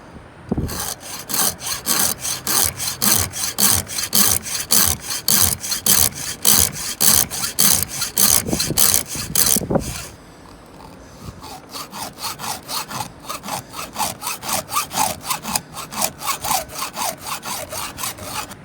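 Rapid rhythmic rasping of a 7/32 file from a Countyline sharpening kit sharpening chainsaw teeth, steady back-and-forth strokes, close and loud, with a short pause midway before lighter strokes continue.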